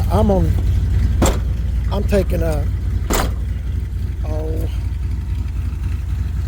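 A 1984 Chevy C10 pickup engine idles with a steady low drone while someone speaks close by over it.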